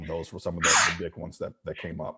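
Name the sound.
human sneeze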